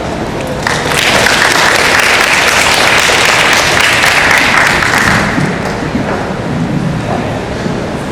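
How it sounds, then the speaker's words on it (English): Warm applause from an audience at a Hong Kong art exhibition opening, greeting an asset management guest, a dense steady wash of clapping that swells in quickly, holds loud for several seconds, then thins slightly toward the end. "A warm applause, please, for Mr. Jeremy Stewardson of Eagle Asset Management"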